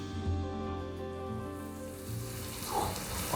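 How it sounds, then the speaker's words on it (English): Olive wagyu beef sizzles on a hot teppanyaki grill, a constant close crackle and hiss with faint clinks from the cooking area. "Oh, the sizzling, the smell, the scent, everything about this"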